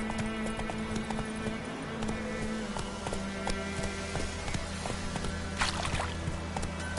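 Roach, a horse in the video game Witcher 3, trots with rhythmic, continuous clip-clop hoofbeats at moderate volume over a low steady hum.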